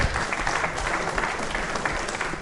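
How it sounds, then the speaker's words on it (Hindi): Audience applause at a live quiz show on the Constitution of India, steady dense clapping filling the whole short stretch at moderate loudness with no talk over it. "तालियां बजाइए साहब"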